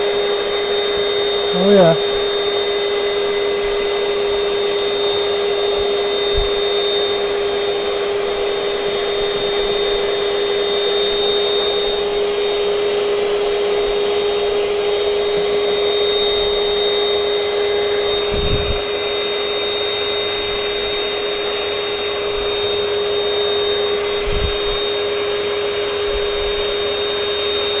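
A vacuum cleaner with a nozzle tip draws debris out of a Turin DF54 coffee grinder, a loud, steady close whine running unbroken throughout, with a brief spoken remark near the start.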